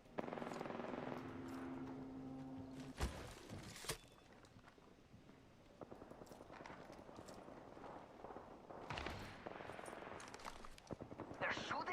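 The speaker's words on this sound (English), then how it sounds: "They're shooting at me?" Apex Legends gunfire crackles in sharp bursts of shots amid hoofbeat-like clatter and game noise, with a voice talking over the action.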